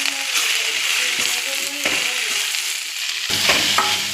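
Drumstick leaves and onion stirred in a frying pan give a steady hiss of sizzling with repeated scraping strokes, growing louder and fuller near the end; no one speaks.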